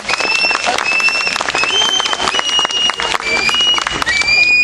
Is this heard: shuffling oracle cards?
no